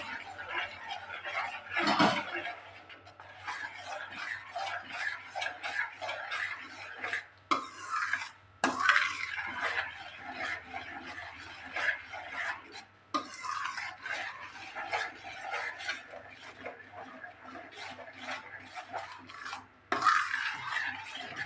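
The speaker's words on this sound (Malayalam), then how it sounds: "ഇളക്കിക്കൊണ്ടിരിക്കണം നല്ലതുപോലെ ഇളക്കണം" Tender coconut halwa mixture stirred steadily in a pan, a continuous rasping, scraping rub of spoon against metal with brief pauses, close and fairly loud, no voices.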